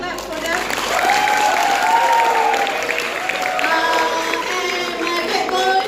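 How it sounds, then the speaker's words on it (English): A university event audience claps for the organising committee, a steady wash of applause lasting several seconds, with voices and chatter mixed in over it. "Can you give a clap for them?"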